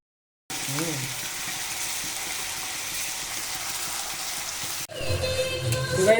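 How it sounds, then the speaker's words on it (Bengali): Ginger garlic paste spits and sizzles in hot oil in a wok for chicken curry, a steady dense crackle that starts after a brief silence and turns into louder, rougher frying with a few stirring knocks near the end. "তো গাইজ এবার আদা রসুনের পেস্টটা দিয়ে দিচ্ছি এর ভিতরে।"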